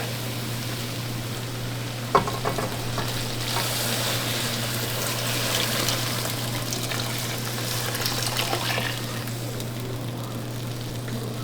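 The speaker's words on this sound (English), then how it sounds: "Finally, we're going to add shrimp broth." Shrimp broth pours into a simmering Louisiana seafood gumbo pot, making a continuous rushing, sizzling wash that lasts several seconds after a single sharp clank near the start, over a low steady hum.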